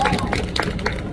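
Brief burst of crowd clapping at an evening political protest rally in Gyeongnam, welcoming the next speaker, a few distinct claps over murmuring voices.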